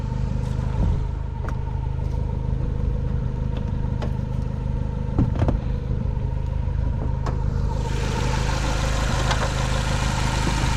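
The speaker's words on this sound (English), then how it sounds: "I left the car running" A car engine idling under a popped hood, a steady loud mechanical drone with periodic ticks and clatter, then a hissier wash rising partway through.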